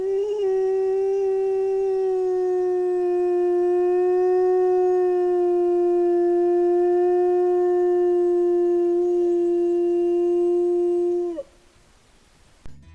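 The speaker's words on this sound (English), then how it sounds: "listen to a distant wolf howl" A single long, sustained wolf howl in a remote coastal national park wilderness, holding one steady pitch with rich overtones for over ten seconds before cutting off into near silence.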